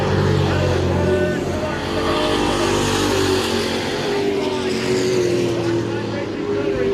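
Race cars roar out of a corner at a Maine short-track event, a steady loud engine drone that holds throughout under a commentator's voice.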